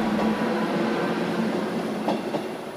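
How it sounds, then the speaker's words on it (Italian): A train rolls through Giarre railway station in Sicily at early morning, a loud, steady rumble of wheels on rails with faint clacks and a brief metallic squeal near the end, no talk. "qui transitano tantissimi treni carichi di pendolari"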